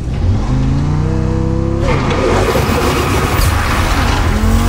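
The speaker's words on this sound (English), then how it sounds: "So we're gonna do a little bit of a launch here." Ivory-Tower AEZUS with 1300 HP in The Crew Motorfest launching hard, its engine climbing in loud rising revs before a gear change, then a roaring, gritty surge with tyre noise as it accelerates away.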